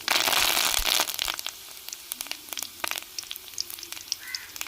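Curry leaves hit hot oil with a loud, bursting sizzle that starts heavy and then settles into scattered crackles and sharp pops, close up and with no talking.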